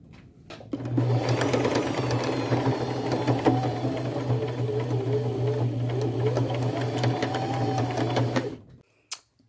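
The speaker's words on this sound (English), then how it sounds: "I will go to my machine and stitch across that" A sewing machine stitches across a belt on a denim bag made from jeans, running in one continuous steady whir for about eight seconds before stopping, close and alone with no talk.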